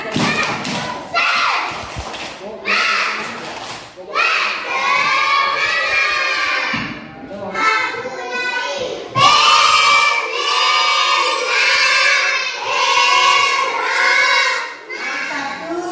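First-grade pupils in an Indonesian primary school classroom do a spirit clap chant: a few sharp thudding claps open it, then loud shouted chanting in unison by a group of young children fills the rest, close and energetic.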